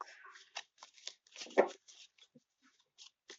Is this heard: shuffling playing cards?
yes